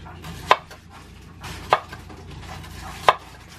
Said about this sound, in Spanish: En esta ocasión la cebolla la voy a hacer así en rodajas.